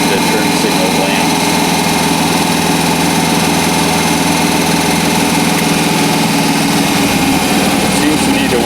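An MG MGA car engine idling steadily, loud and close, a continuous even rumble with no pauses; a voice can be heard talking over it.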